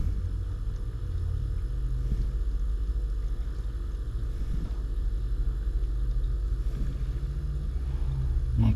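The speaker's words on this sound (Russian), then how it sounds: "Самое главное, мотор работает." Refrigerator compressor motor under repair, humming steadily with a low, continuous drone throughout, close and even, with no talk over it.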